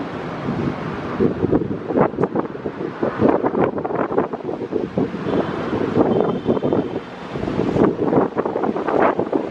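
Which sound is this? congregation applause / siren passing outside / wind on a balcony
wind on a balcony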